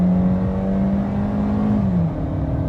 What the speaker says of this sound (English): So if I were to go hard throttle and needed some response